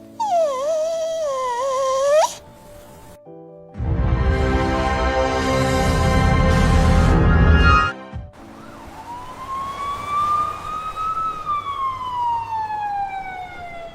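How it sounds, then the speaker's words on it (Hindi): A family's pet dog whimpers and whines in high, wavering cries, followed by a dense burst of noise and then long rising and falling siren-like tones. "सिर्फ एक चीज जिंदा थी, परिवार का पालतू कुत्ता टॉमी, जो छत पर बंधा मिला।"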